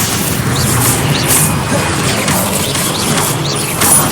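A Stupefy spell cast in Hogwarts Legacy, heard as a loud magical blast with whooshing sweeps and crashing impacts blending into a dense wash of combat effects, with several sharp bursts spread across the span.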